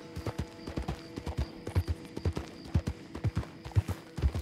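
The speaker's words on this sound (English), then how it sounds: "Put a saddle on this horse." Saddled horse in a ranch role-play video game, hooves clip-clopping in an even walking rhythm of distinct, fairly close knocks, with no talk over them.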